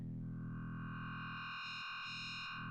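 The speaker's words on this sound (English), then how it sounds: "as you can hear, it's adding loads of overtones to the sound" A sustained FM8 synth growl bass tone in Ableton Live, steady and buzzy, with bright harmonic overtones building in partway through as an operator is fed in, growing harsher and rougher toward the end.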